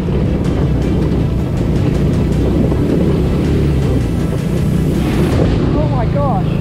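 A small Amazon mini Jeep ride-on vehicle pushes through a deep water puddle on a Colorado backcountry trail, a loud continuous churning wash of water and motor noise throughout with wind buffeting the microphone.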